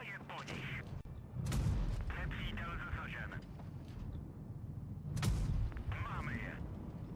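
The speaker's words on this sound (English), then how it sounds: "Some other clippers shooting me there." Heavy tank guns firing in the mobile game World of Tanks Blitz, two booming cannon shots a few seconds apart over engine rumble and battle noise, with someone talking throughout.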